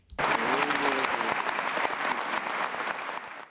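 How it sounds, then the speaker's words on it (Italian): Spontaneous applause from a large gathering of priests fills a cathedral, a dense, sustained clapping that starts abruptly and carries on evenly with a reverberant, crowded quality. "Ed è subito applauso spontaneo da parte dei moltissimi sacerdoti che sono in Duomo"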